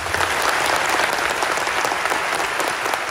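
An audience applauds players at a football club's 2023 new-squad presentation event, steady dense clapping from a large crowd filling the hall for about three seconds without pause.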